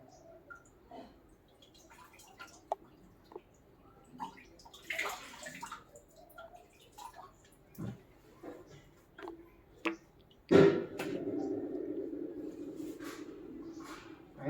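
Water from a drum is poured through a pipe into a farm water tank, a steady rushing gush that starts abruptly partway through and keeps going, after quieter scattered knocks and handling sounds.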